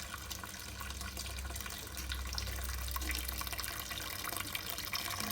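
Water circulates steadily through a BrewTools B80pro brewing system, driven by its pump as a continuous rushing, splashing wash of liquid with a low hum beneath.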